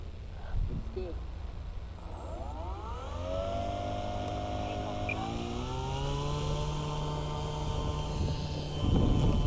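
An E-Flite Cherokee 1.3m radio-controlled model airplane takes off, its electric motor whine climbing in pitch as it spools up and then holding a steady rising tone as the plane pulls away, with brief outdoor noise at the start.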